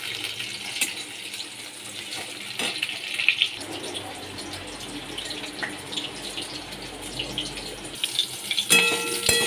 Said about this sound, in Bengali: এবার আলুগুলোকে ভেজে নিচ্ছি